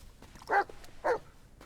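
Two short dog barks from the video game Blair Witch, a half second apart, fairly faint and synthetic-sounding, with a quiet background between them.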